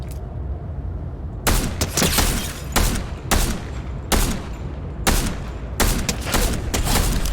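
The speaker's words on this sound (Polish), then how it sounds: "Gdzieś jakieś strzały są." Loud bursts of Fortnite gunfire crack out in repeated volleys of rapid shots, spaced a second or so apart, with no talking.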